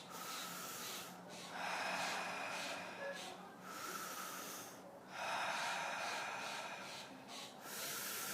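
Deep breathing through an open mouth, slow airy inhales and exhales alternating in long waves, close and clear with no talking over them.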